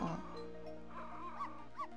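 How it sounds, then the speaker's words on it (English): A dog in Ghost Trick: Phantom Detective giving a short sharp bark followed by a few whimpering yips over steady background music. "Shut that mutt up!"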